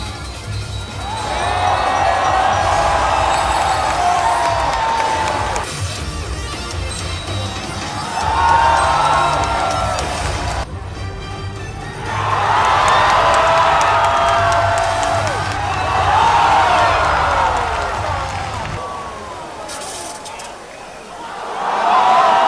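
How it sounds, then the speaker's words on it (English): A live crowd at a Pokemon championship event erupts in repeated waves of cheering and whooping at a trailer reveal, several loud bursts separated by brief lulls, with a voice talking through the gaps. "that whole trailer rightfully got crazy reactions from the crowd"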